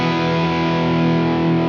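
A crunchy, distorted electric guitar chord from a Line 6 Helix LT rings out steadily and loud, sustained with a thick, gritty overdriven tone throughout.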